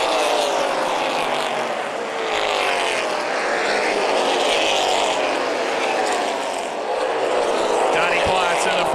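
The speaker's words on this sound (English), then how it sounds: "Side-by-side racing action between Kenny Whitman and the 27 of Corey Ryman." Race cars at New Paris Speedway during the Summer Sizzler 100, engines roaring side by side in a continuous loud drone that rises and falls in pitch as they pass, with an announcer talking over it.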